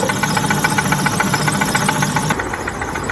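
A 1999 Saab 9-5 engine runs close by with a rough, rapid knocking rattle, loud and steady, before easing slightly near the end.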